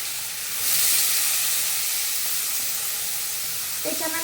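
Grated carrots frying in hot ghee for carrot halwa, giving a steady close sizzle and hiss throughout that swells slightly after the first half-second, with a brief clink near the end.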